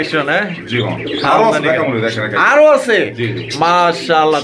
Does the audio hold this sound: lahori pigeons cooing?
yes